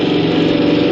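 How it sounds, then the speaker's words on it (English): Drilling sound effect in a 1948 radio comedy play, a loud continuous mechanical drone with a steady pulsing throb, heard alone without voices. "Now they're starting to drill."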